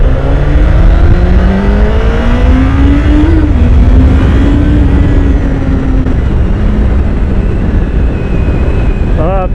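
A 2016 Honda CBR1000RR SP sportbike accelerates hard in first gear, its loud, close engine note rising steadily with a dip and brief wobble midway, then climbing on, with only rushing wind and no voices.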